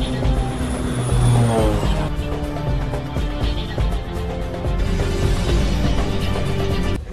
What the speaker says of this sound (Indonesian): Ricardo menyusup dan terbang lebih rendah di bawah sebuah pesawat komersil